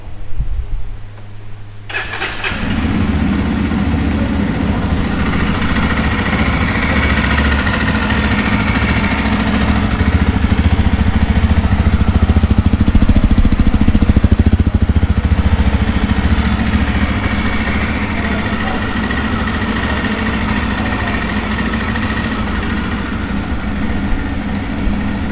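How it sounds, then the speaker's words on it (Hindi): A Classic Legend BS7 motorcycle engine catches after a brief start and settles into a loud, steady, close idle with a rhythmic thump that rises and falls slightly over time, with no talk. "पहले हम इसको गाड़ी को स्टार्ट कर लेते हैं एक बार।"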